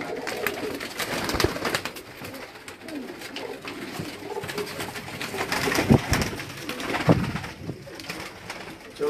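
A large flock of around a hundred kept pigeons coos and flutters continuously at close range, with a steady busy murmur of overlapping calls and no clear speech.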